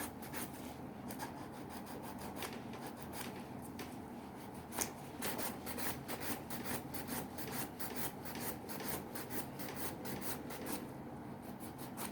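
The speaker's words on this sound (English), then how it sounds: "you see this buffer, you can see that it's a low grade because it's not taking off the nail bed, it's actually just buffing it by smoothing it" Steady dry rubbing and rasping of a low-grade nail buffer smoothing a fingernail during a manicure, close and continuous with faint scratchy strokes, no voices.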